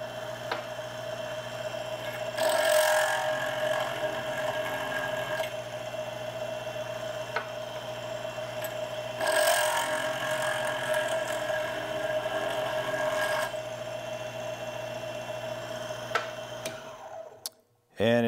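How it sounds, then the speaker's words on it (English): Rifle reloading case prep machine working on case mouths, a steady motorized whir with a constant tone, swelling louder in two longer bursts as cases are processed, then cutting off near the end. "That machine is that fast and that easy to use, and it does an absolutely beautiful job on these case mouths."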